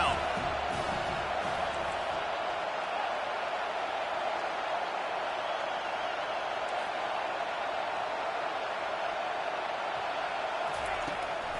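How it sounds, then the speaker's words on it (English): Steady roar of a large football stadium crowd on a third-down defensive stand, a dense wall of noise holding loud and constant throughout with no break. "Decibels rising as the crowd gets behind this defense on third down."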